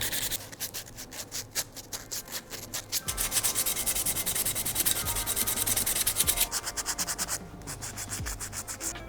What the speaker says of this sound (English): now I'm just going to sand everything using some 240 grit